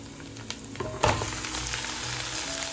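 Pieces of country chicken hit a hot pan of oil and sizzle steadily and loudly, with a brief louder crackle as they go in. The frying then settles into a constant hiss.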